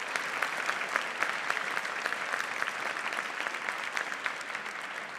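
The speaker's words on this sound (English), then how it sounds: "Let's give them a round of applause." An audience applauds award-winning teachers, staff and community members at an education honors ceremony: dense, steady clapping from a sizeable crowd, sustained evenly for several seconds with no talk over it.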